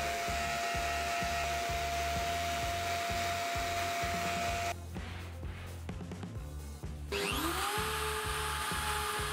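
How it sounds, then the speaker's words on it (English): An edge belt sander on homemade band saw blade guides drones loudly and steadily, with a rhythmic low thumping and a brief rougher stretch midway as the wood is pressed against the belt. "Using the edge belt sander, I sand all the edges."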